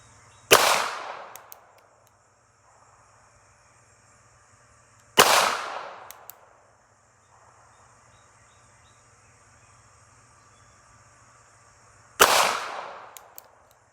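Three sharp, loud gunshots from a Smith and Wesson Bodyguard .380 pistol, fired one-handed at a target, spaced several seconds apart, each cracking close by and fading quickly over a quiet outdoor background.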